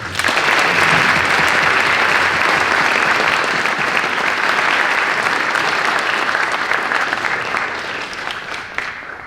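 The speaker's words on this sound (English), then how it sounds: "Let's give them a round of applause." Sustained, loud audience applause for veterans at a high school Veterans Day event fills the space, steady and dense for several seconds before easing slightly toward the end.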